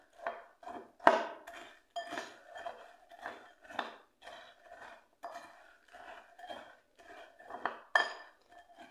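Cornflakes and melted chocolate being stirred in a bowl with a spoon, a rhythmic series of clinks and scrapes against the bowl, close and fairly quiet, with no voices.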